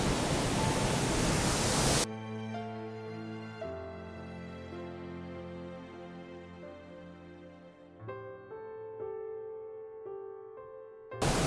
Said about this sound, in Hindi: आपको यहाँ पे सिर्फ पानी की आवाज़ सुनाई देगी बस, और कुछ भी नहीं